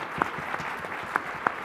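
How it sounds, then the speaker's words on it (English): Audience applause at a conference of rapid-fire presentations on smoking care, a brief burst of dense clapping with a few sharp nearby claps. "another round of applause for Scott."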